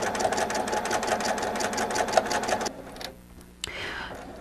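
A sewing machine runs in a rapid, steady stitching rhythm while stitching back and forth over a triangle on a zipper pouch, building up a dense texture, then stops abruptly, leaving near silence and a brief clatter.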